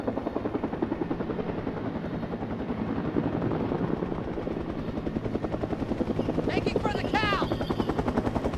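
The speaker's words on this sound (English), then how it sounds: "We're sending you ammo by helicopter." Helicopter rotor chopping steadily throughout in the Vietnam-era Men of War Assault Squad 2 war game, arriving with an ammo drop, loud and continuous with voices talking over it and a brief high chirp near the end.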